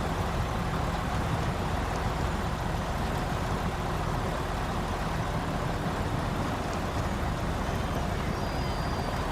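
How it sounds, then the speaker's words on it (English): Truck engine in the Snowrunner video game, a steady loud low rumble and drone running continuously throughout without pause. "do the engine sounds seem like they're still too loud?"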